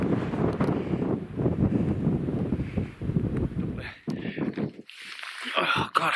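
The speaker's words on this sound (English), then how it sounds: "I've hiked up the top and all the way the wind's been blowing" Strong wind buffets the microphone on a Lake District hilltop during a wild-camping hike, loud, gusty rumbling throughout, with a brief lull near the end.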